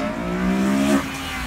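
A Honda Accord engine with full exhaust revs hard, its pitch climbing steadily for about a second before dropping off abruptly at the shift, then idling lower; close and loud.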